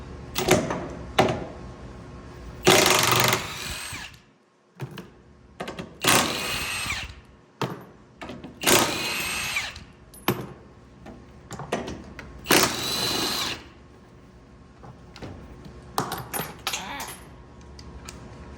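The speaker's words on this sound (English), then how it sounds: "Now you're going to take out the 5 18 millimeter bolts on each side for the strut tower" A power tool removes the 18 mm strut tower bolts on a 2007 Cadillac STS during engine and transmission removal. Several loud bursts of whirring, rattling fastening come one after another, with clinks and short pauses between them.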